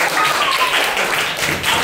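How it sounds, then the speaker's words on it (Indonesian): A group of children claps together in class, producing loud, dense, close clapping that runs steadily for a couple of seconds with no talk over it. "Tepuk tangan"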